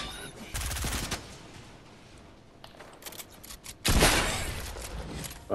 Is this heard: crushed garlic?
no